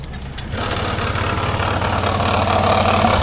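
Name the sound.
motorcycle engine running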